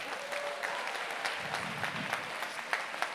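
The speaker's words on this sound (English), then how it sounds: "Come on, big round of applause," Steady applause from a crowd at a charity ball auction, dense clapping throughout with a few sharper claps standing out, fairly close and continuous.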